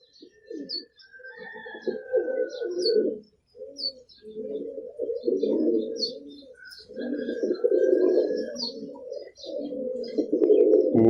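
Young Teddy pigeons coo close by in repeated soft, throaty bursts with short pauses, mixed with a few faint higher chirps.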